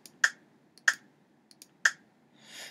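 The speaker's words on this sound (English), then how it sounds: "the click accent sounds like this." Sharp metronome click accents from an Ableton Live drum pack, three bright isolated ticks with softer ticks between, spaced about a second apart, close and clean, followed by a brief hiss at the end.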